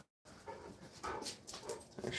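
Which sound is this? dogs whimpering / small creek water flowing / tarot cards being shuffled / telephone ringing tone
dogs whimpering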